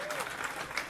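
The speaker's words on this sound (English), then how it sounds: "Clap if you've seen it." A brief burst of faint audience clapping at a live comedy show, soft and diffuse across the room for about a second.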